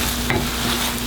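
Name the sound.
stirring food frying in pan with paprika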